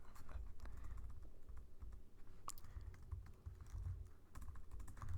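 Quiet, steady typing on a computer keyboard while writing Java code: a continuous patter of soft key clicks with a few sharper taps and no voice.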